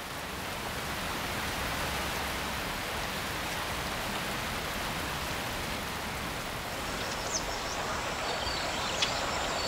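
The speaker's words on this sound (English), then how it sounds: "The rain doesn't deter Poker or her calf." Steady monsoon rain pours over a flooded marshland wetland, a dense, even hiss of falling water with no pauses, with faint birds or insects barely audible in the background near the end.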